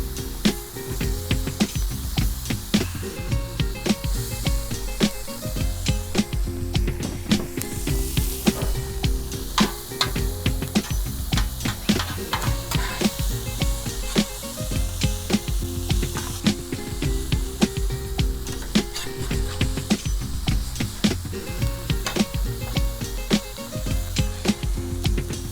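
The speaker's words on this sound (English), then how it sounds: "Now I put on a bunch of butter because that's just the way I like my grilled onions, with a lot of butter, especially if I'm gonna put them on the griddle." Onions frying in lots of butter on a flat griddle for chorizo smash burgers, giving a loud, steady sizzle and hiss broken by constant crackles and pops, with no voices over it.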